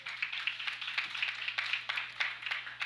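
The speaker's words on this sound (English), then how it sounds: "Gets a round of applause as the crowd appreciates that attempt." Scattered crowd applause at a regional powerlifting championship after a failed deadlift lockout attempt, moderately loud claps with broadband texture under a faint steady hum.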